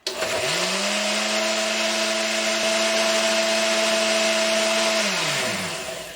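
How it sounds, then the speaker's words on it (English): A countertop blender whirs through an oatmeal and strawberry smoothie with vanilla, a steady loud motor drone spinning up at the start and holding for about five seconds before winding down, with no talk. "And we're gonna go blend."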